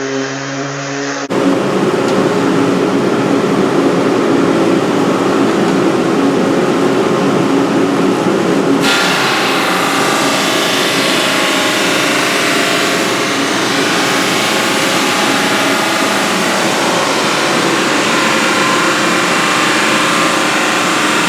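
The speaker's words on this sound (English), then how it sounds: "clean it up a little bit by sanding it." A power sander starts abruptly and runs continuously on rain-weathered plywood, a loud steady motor whir with a gritty rasp that changes tone partway through as pressure shifts.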